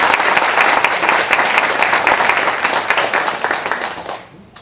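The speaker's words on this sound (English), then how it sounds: "I think they deserve a round of applause." Applause from an audience at a book presentation for local authors, a dense steady clapping that fills the room and then thins and fades out near the end.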